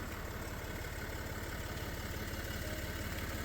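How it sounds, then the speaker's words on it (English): A Land Rover Discovery 4 3.0 SD V6 diesel, 2015 automatic, idling after about twenty minutes of running, a steady low even rumble heard close by with no voices. "The engine's been running about 20 minutes now."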